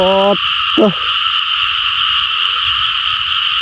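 Frogs croak at night in a wet field, with two short, close, harsh croak bursts near the start over a steady, dense chorus of frogs and insects that continues throughout.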